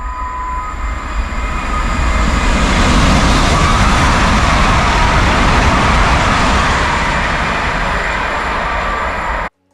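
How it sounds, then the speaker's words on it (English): A high-speed train passing at about 250 km/h near Camp de Tarragona station, Spain, roars past close by, a loud sustained rushing rumble that builds quickly, holds for several seconds, then cuts off abruptly. "Here's what a speeding 250 km an hour high-speed train looks and sounds like."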